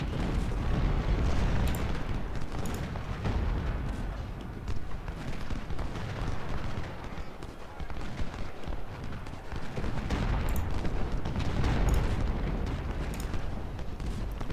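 Cannon artillery rumbles through a Civil War battle in the Ultimate General strategy game at the Siege of Suffolk, a dense continuous roar of booms and low thunder with no clear separate shots.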